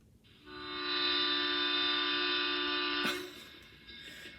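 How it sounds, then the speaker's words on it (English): A loud train horn blares steadily for about three seconds, then cuts off, leaving faint rumbling noise behind. "You want to hear the train?"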